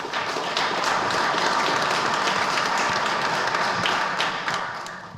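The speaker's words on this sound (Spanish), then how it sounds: "para el cual pedimos un fuerte aplauso" Audience at a lecture on nursing history gives loud, sustained applause that swells and holds for about five seconds before tapering, with dense overlapping claps close by.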